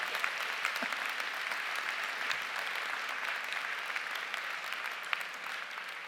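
Steady applause from a large crowd at a school recognition ceremony, a continuous dense patter of many hands clapping at an even level throughout.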